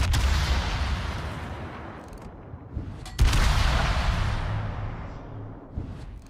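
Warship naval guns in World of Warships booming in two heavy salvos a few seconds apart, each a loud blast decaying into a long rumble.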